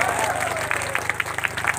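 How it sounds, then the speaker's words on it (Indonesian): A crowd at a protest rally outside a governor's office claps in a dense burst of applause, loud and close, with a voice heard faintly over it. "Tepuk tangan dulu buat kita semua."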